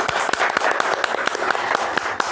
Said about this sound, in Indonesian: Oke, tepuk tangan untuk Kak Isa